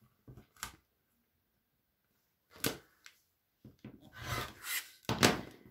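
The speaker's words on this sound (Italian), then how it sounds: "Ora mi taglio i miei 20 centimetri." Scissors cutting a strip of cotton fat-quarter fabric for pattern weights, heard as a few short rasping snips, then a pause and a longer run of close, crisp cutting strokes with no talk.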